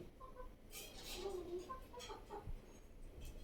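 Silkie chickens clucking softly, a few short low clucks and murmurs, faint and close, with a quiet background.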